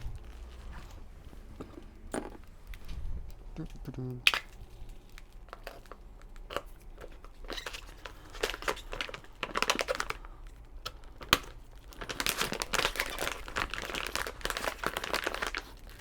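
A sealed plastic package of black 3D printer filament is cut and torn open up close, giving irregular crinkling, snipping and rustling bursts that grow denser toward the end.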